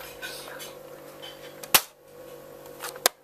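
A Nerf Rampage blaster fires foam darts, giving two sharp plastic snaps about a second apart over a low background hum.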